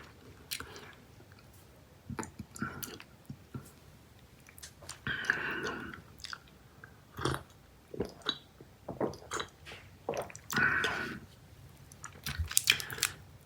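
Fruit-flavored Dubble Bubble bubble gum is chewed close to the microphone, with soft wet squishes and smacks in irregular bursts and occasional faint whispering.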